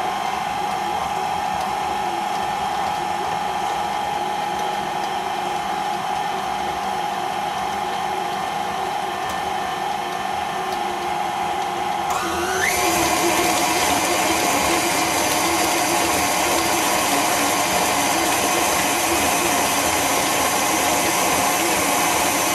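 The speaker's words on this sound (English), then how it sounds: "I'm going to try to mix this up without making a huge mess" An electric mixer whirs steadily through chocolate cake batter made with beans, a loud continuous motor drone that jumps to a higher, brighter speed partway through.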